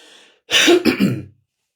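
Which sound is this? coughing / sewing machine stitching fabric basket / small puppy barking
coughing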